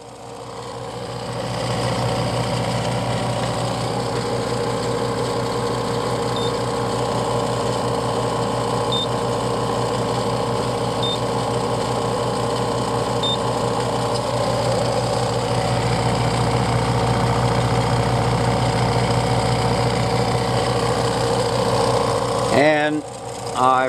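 An old, inefficient electric motor, about 20 years old, drives a magnetic heater test rig with a loud, steady droning whir and vibration for over twenty seconds, then rattles near the end.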